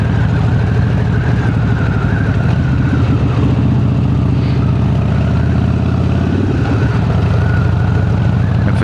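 A Harley-Davidson motorcycle engine drones steadily and loudly while riding home on a cold night, with constant wind rush over the microphone and no talking.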